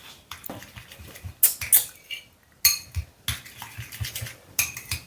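A mustard and smoked paprika sauce for homemade burgers is mixed in a bowl, giving sharp clinks and scrapes of a utensil against the dish in irregular bursts, fairly close and without talk.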